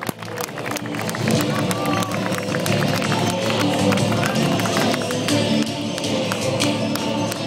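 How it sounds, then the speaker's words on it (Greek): A studio audience applauds a guest with loud, sustained clapping and a few cheers, a dense crowd sound that holds steady throughout. "Παρακαλώ, χειροκροτήστε τον άλλη μια φορά."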